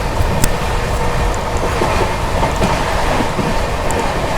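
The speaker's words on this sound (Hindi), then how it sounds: "महामोदी एक्सप्रेस क्या ही गजब की रफ्तार में स्किप करने जा रही है फिरोजाबाद को" The 12398 New Delhi–Gaya Mahabodhi Express racing through Firozabad station without stopping, heard as a loud, steady roar of wheels and rushing air with faint clicks of rail joints.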